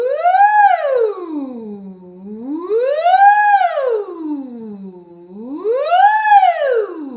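A singing voice imitates a siren, sliding smoothly up and down in three repeated wailing sweeps, clear and close with no other sounds.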